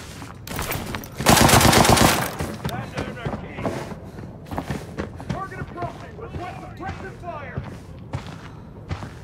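Gunfire in a battle royale video game: a dense, loud burst of rapid automatic shots, then scattered, lighter shots and thuds while a voice talks over the action.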